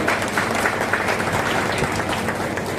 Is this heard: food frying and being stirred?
no